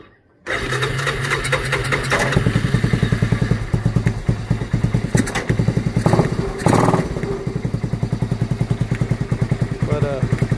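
Honda Fourtrax 250 engine on a John Deere race mower starts cold after a brief pause and settles into a loud, close, rapid thumping idle with mechanical clatter.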